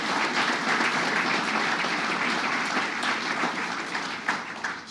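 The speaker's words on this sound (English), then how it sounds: "Let's give him a round of applause." An audience applauding at a state government grant awards event, steady dense clapping sustained throughout at moderate loudness.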